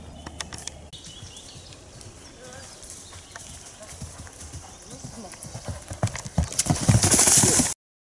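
Horse cantering in a TREC riding obstacle, taking a drop jump under a rider, heard as clear clip-clop hoofbeats that grow louder toward the end and then cut off abruptly, with voices talking throughout.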